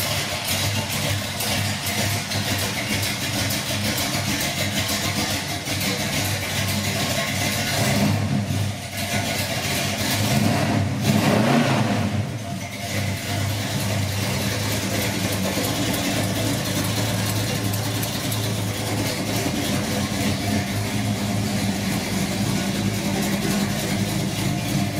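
A 1968 Oldsmobile 442 with a 455ci V8 and Flowmaster exhaust idles with a deep, steady rumble, then gets revved in a short surge around the middle before settling back to a loud, close idle.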